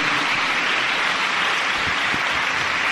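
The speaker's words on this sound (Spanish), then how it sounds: "Dale un aplauso al Señor" Congregation applauding to praise the Lord during a Catholic rosary gathering, a dense, continuous roar of many hands clapping at steady loudness, sounding like heavy rain, with no voices over it.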